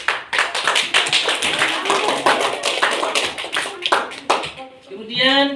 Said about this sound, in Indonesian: Ayo berikan aplaus.